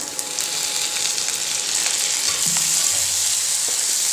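Tomatoes and bell pepper frying in a pan while being stirred, a close, continuous sizzle with scraping and clinking of the utensil against the pan, with no voices.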